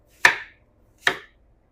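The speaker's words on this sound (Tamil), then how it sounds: "இப்போ இதை குட்டி குட்டியாக கட் பண்ணி மிக்ஸி ஜாரில் சேர்த்துக்கோங்க" A knife cuts a peeled apple into small pieces on a board: two crisp, separate chops about a second apart, close and clear with quiet between them and no talking.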